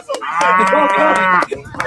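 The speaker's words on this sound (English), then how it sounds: "on comes a cow" A cow gives a single loud, sustained moo, close by, lasting over a second with a rich harmonic tone, framed by a few sharp clicks before and after.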